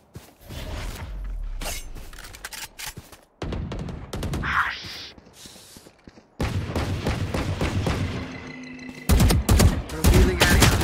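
Gunfire in the video game Valorant on the Ascent map: loud bursts of rapid shots and single cracks, broken by short pauses, then resuming in heavy volleys.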